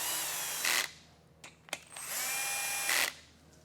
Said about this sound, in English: the little screwdriver clutching out really easy